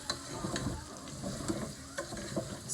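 Chopped radish and tomato for sambar frying in hot coconut oil in a pan, a steady close sizzle broken by soft scraping stirs at a fairly regular pace, with no voices.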